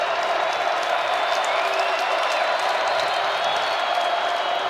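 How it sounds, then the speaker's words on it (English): A stadium crowd at a college football playoff game roars steadily as fans rise to their feet, a dense sustained wash of cheering heard from within the stands, loud throughout. "Here comes this crowd now as they rise to their feet."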